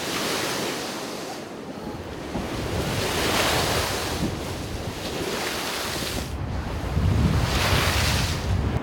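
High-tide sea waves surge and crash along the coast at Whitley Bay during a tidal surge, a loud, continuous roar of surf with swelling breakers, heavy wind buffeting the microphone throughout.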